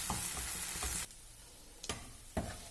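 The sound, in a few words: mixing millet puliyogare paste into cooked rice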